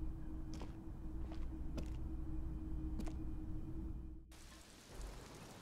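Rain ambience in the video game Disco Elysium, a steady soft hiss of falling rain with a few faint ticks, cutting off abruptly near the end before resuming more quietly.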